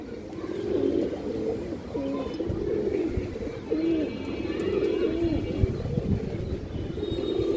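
Pigeons of an old line, including large black females, coo repeatedly in low, throaty rolling phrases, close and overlapping, over a busy background with faint higher chirps.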